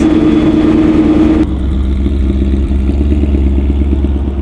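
A shop car's engine revs loudly up close, a raspy high rev cutting off abruptly into a lower, lumpy, clattering idle that keeps pulsing.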